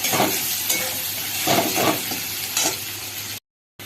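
Onions and tomatoes fry in a pan after water is added, giving a loud, steady sizzle with a few louder bursts as the mixture is stirred, then a sudden cut to silence near the end.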